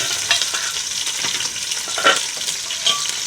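Masala frying in ghee in a pot while being stirred, giving a steady close sizzling hiss broken by a few brighter scrapes and clinks from the stirring.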